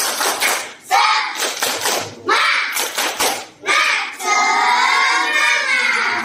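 Schoolchildren in a classroom perform a rhythmic 'tepuk semangat' clapping cheer, with loud bursts of patterned claps separated by short pauses, then voices chanting together in unison at the close.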